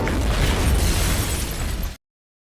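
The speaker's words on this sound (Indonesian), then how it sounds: "Steve menembak mobil dari jauh sehingga membuat mobil tersebut meledak dan hancur" A car explosion from the 2011 film The Mechanic, a car shot from a distance after spilled gasoline ignites: a loud, sustained roaring blast with dense low rumble and crackle, lasting about two seconds before cutting off abruptly.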